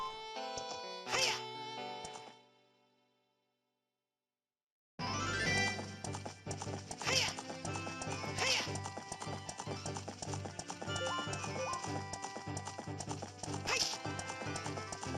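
A horse gallops with quick, rhythmic clip-clopping hooves in The Legend of Zelda: Ocarina of Time 3D, over game music, with a short silent gap before the hoofbeats resume strongly.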